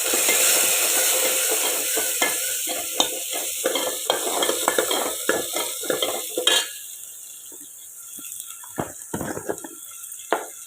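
Mustard seeds, cumin, shallots and dried chillies fry in hot oil with a bright, crackling sizzle, while a spoon scrapes and clinks against the pan in sharp, irregular strokes. The hiss is strong at first and thins out toward the end.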